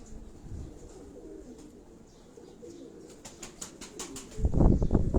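Pigeons kept at a home loft coo low in the background, then a burst of wing flapping rises loud and close near the end, under a windy backdrop.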